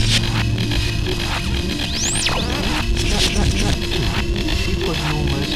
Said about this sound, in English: We put an almost compact interwoven mesh of sine waves.